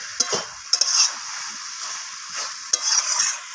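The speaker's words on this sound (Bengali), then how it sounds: "চিনি আর কাঁচা লঙ্কাটা দিয়ে বাঁধাকপিটাকে আবারও নাড়াচাড়া করে মিশিয়ে নিয়ে" Cabbage being stirred and fried with sugar and green chilli in a pan, a soft steady sizzle broken by a few sharp spatula scrapes and knocks against the pan, close by with no voices.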